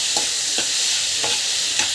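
A spoon scrapes and stirs through sizzling tomato thokku with asafoetida and salt in a hot pan, with four regular, close strokes over a steady frying hiss.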